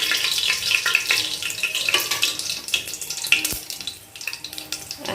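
Whole garam masala and cumin seeds sizzling in hot mustard oil, a bright, crackling hiss close up with scattered pops and stirring scrapes that thins out toward the end.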